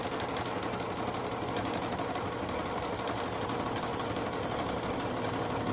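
A sewing machine stitches a pocket on a beginner sewing caddy, a steady close mechanical whir with rapid even needle rhythm running continuously throughout.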